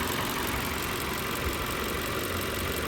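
A 2020 Jaguar F-Pace 30t with a turbocharged 3-litre inline four idling, direct injection ticking in a steady, even drone heard up close, with no talking.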